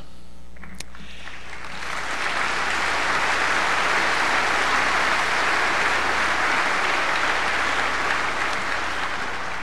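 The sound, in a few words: audience applause after brass band concert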